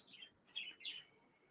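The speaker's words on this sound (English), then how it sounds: "I'm very surprised at how loud this bird is." A finch gives a few short, bright chirps in quick succession, faint and thin against a quiet background, with no talk.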